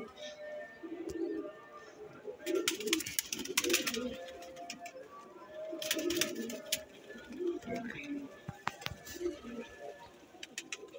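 Sialkoti pigeon chicks coo softly and repeatedly in a loft, with low, throaty calls rising and falling under faint background noise and occasional sharp clicks.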